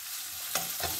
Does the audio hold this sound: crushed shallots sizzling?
yes